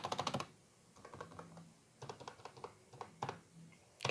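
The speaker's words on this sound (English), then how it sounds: "see I hit backspace there because I typed is wrong" Typing on a computer keyboard while entering a BASIC program, with quick bursts of clicky keystrokes at the start and end and sparser taps between, close and fairly quiet.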